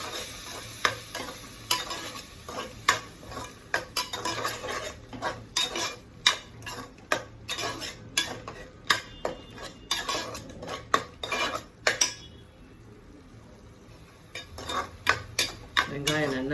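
Ground onion paste sautéing in a pan for rajma gravy, a spoon scraping and clinking against the metal in quick repeated strokes over a soft sizzle, with a short pause near the end before the stirring resumes.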